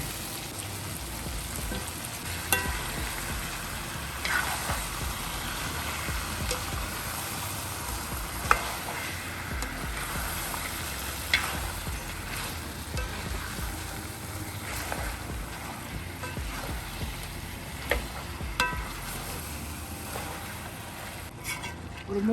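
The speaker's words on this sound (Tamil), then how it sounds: "இந்த ஸ்டேஜில் வந்து நீங்கள் எல்லாம் சிக்கனை சேர்க்கணும்." Marinated chicken added to a chicken curry pan, frying with a continuous close sizzle and occasional scrapes and knocks as it is stirred, steady and unbroken throughout.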